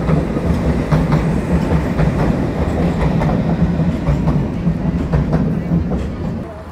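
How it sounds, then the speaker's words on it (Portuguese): A train rolls across the Galata Bridge in Istanbul, with a steady loud rumble and rhythmic clickety-clack of wheels over rail joints, fading slightly at the end. "olha só, tem trem."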